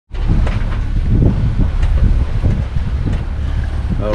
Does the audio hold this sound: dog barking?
no